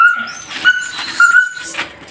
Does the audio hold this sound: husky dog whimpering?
yes